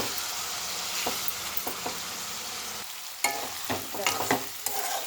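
Chicken fries in a pan with turmeric and salt while being stirred, a steady close sizzle broken by sharp scrapes and clacks of the spoon, louder toward the end, with no talking.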